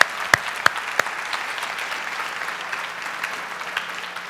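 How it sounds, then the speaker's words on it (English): An audience at an awards event breaks into steady applause, a dense wash of clapping with a few sharp individual claps standing out near the start, moderately close and without talk over it. "Can we give her a round of applause quick?"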